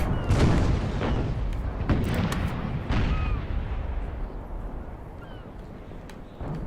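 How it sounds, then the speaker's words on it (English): Naval cannons fire in an Imperial Splendour game battle in the North Sea, a series of heavy booms in the first half, some close, then a rumbling tail fading over the last seconds. "Load those cannons, boys. Load them fast."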